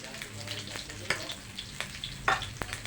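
White onion and plenty of garlic sauté in the middle of a pan while pork adobo is being made, giving a soft, steady sizzle with a few sharp stirring scrapes, close but fairly quiet.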